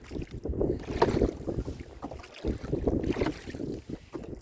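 Headwind roars across the microphone while boating on Lake Sonoma's Dry Creek Arm, gusting in uneven bursts with faint water movement beneath, and no one speaking.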